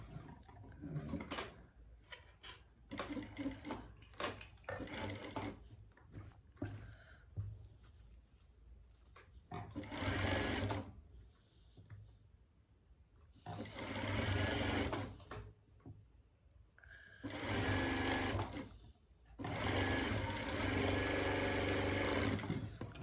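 A sewing machine stitches fabric in separate runs, each a few seconds long, with short pauses between them. It is close and clear, with quieter handling noises in the gaps.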